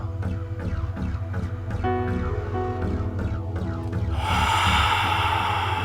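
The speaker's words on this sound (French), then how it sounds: "inspire à fond et laisse partir" A deep inhale followed by a long, full exhale during a guided breathing exercise, with soft background music playing throughout and the breath swelling louder near the end.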